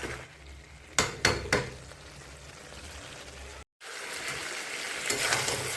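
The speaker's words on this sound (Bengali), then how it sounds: "মটনটা খুব সুন্দরভাবে কষাচ্ছি ধীরে ধীরে।" Mutton slowly sautéed in a pan, a low steady sizzle near the mic with three sharp metallic knocks of a utensil against the pan early on, a brief dropout, then the frying resumes.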